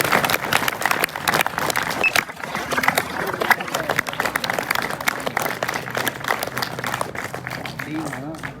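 An audience at a college drama event in Mirpur claps in a sustained, fairly loud burst, with voices mixed in underneath.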